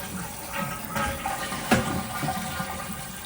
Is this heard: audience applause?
no